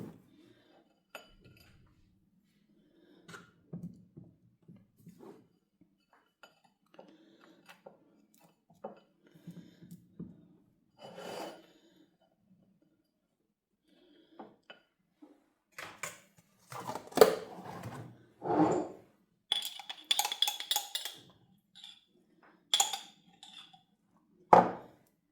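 Knife scrapes and taps against a plate as butter is spread on a warm fruit scone, with sparse quiet clinks that grow louder and busier near the end, close up and with no talking.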